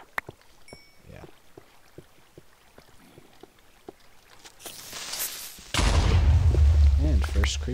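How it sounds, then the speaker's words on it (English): A creeper explosion in the Minecraft video game: soft in-game clicks and footsteps, then a swelling rush that breaks into a loud, sustained roaring blast filling the last couple of seconds. "And first creeper explosion."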